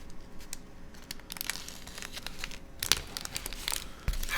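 A knife is dragged through old paper fast-food wrappers, producing scattered crinkling and scraping crackles with a sharper rustle near the end, close and fairly quiet, with no talking.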